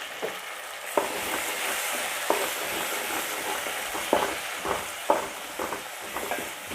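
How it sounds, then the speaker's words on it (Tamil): Tomatoes sauté in a pan for a koduva fish curry, a steady loud sizzle broken by occasional clinks and scrapes of a stirring spoon, with no voices. "தக்காளி நல்லா வதங்கட்டும். இப்போ தக்காளி நல்லா வதங்கணும்"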